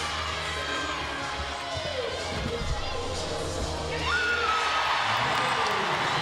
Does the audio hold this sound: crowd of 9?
yes